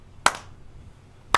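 Two sharp hand claps ring out alone, about a second apart, each crisp and close with a short room tail.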